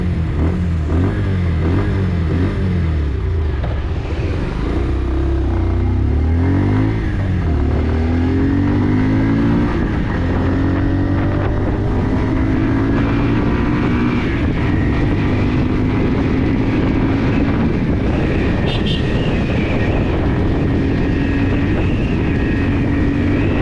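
Bajaj Pulsar 150 STD 2024 motorcycle accelerating through its first gears, a loud, steady engine drone with rising and falling pitch sweeps as revs climb and each gear is shifted, close and continuous with no talk.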